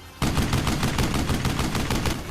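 Rapid bursts of 30mm cannon fire from a WWII German fighter aircraft in an air battle against American bombers, a loud, dense stream of repeated shots starting abruptly and continuing without pause.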